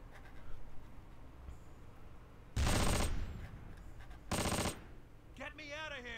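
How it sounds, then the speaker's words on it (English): A Panzer 4 tank firing in the WWII strategy game Close Combat, two loud booming blasts a couple of seconds apart over faint battlefield ambience, followed by a short warbling tone. "Panzer 4 is firing."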